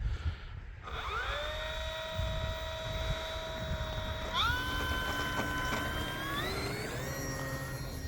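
An E-flite P-47 Razorback RC plane's electric motor whines near the runway on takeoff, its steady tone climbing sharply in pitch as the throttle opens, then holding before rising again.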